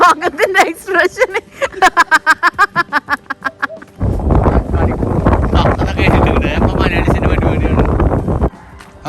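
A person talks at first, then strong wind from a dust storm on a road takes over as a loud, steady rushing roar that buffets the microphone for several seconds before cutting off.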